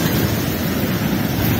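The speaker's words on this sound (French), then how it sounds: "Regardez comment les vagues se forment de l'autre côté, de loin là-bas." Ocean waves surge and break continuously at sunset, a loud, close wash of surf mixed with wind noise on the microphone.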